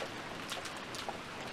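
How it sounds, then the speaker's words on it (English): Steady rain patters against a window in the Umineko visual novel, a soft continuous hiss with scattered brighter drops, faint and with no voices over it. "the raindrops beating harshly on the window were even more convincing."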